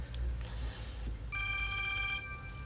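A telephone rings in a home with a bright electronic trill lasting about a second, moderately close over low background hum, after a fainter earlier tone.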